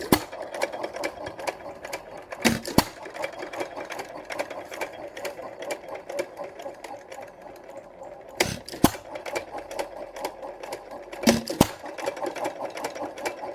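An Amanco Associated Hired Man stationary engine running steadily, with a fast continuous mechanical chatter and a few sharp louder knocks at irregular intervals, heard close and alone.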